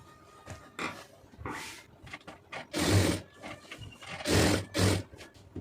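A tailoring sewing machine stitching around a blouse lining runs in several short bursts, with quiet pauses as the fabric is turned between them, close by and fairly loud.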